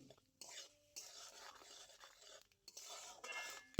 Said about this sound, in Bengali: কড়াইয়ের মধ্যে আমি দিয়ে দিচ্ছি সরিষার তেল পরিমাণ মতো, আর অল্প গোটা জিরে আর অল্প কালো জিরে